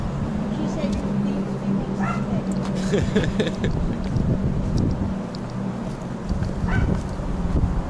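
A miniature poodle barks and yips in short bursts on a night street in Hong Kong, heard over wind noise while someone talks nearby.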